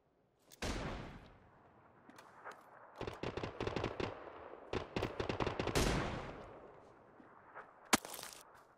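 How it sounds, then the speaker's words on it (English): Gunshots in the PUBG video game, a sharp crack followed by rapid bursts of automatic fire and scattered single shots, fairly faint and distant-sounding, with no talking. "Where is this random shot what keeps coming, though?"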